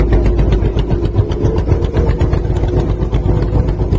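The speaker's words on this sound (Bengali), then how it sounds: "অন্য একটি ট্রলার আমাদের পাশ দিয়ে চলে যাচ্ছে" In the Sundarbans mangrove waterways, a trawler boat's diesel engine chugs loudly and close, a steady throbbing drone with rapid rhythmic pulses that holds constant for the whole stretch.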